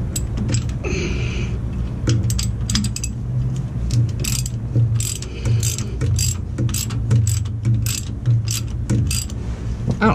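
A wrench loosens the bottom bolt on the starter of a Crown Supercoach bus, producing a continuous run of quick ratchet clicks and metallic ticks close by, over a low, steady hum.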